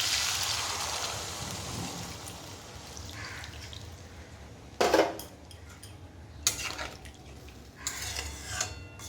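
Water is poured into fried masala in a cooking pan for a fish and potato curry, followed by a few sharp metal spoon scrapes and clinks against the pan over a quiet background.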